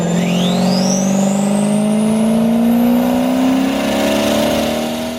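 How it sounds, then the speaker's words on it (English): Engine fitted with an STS remote-mounted turbo kit, the turbo acting as a muffler, revving up in one long, loud, climbing pull with a rising whistle above the exhaust drone and no talk. "With the turbo acting as a muffler, it creates a distinctive note that will definitely turn some heads."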